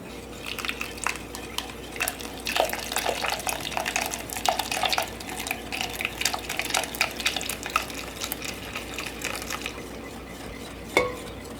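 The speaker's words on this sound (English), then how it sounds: "I'm just going to slowly pour and stir, about half of it into my egg mixture." Hot milk and heavy cream being slowly poured and whisked into an egg mixture for eggnog, with steady light clinking and scraping of a utensil against the bowl and a brief louder knock near the end.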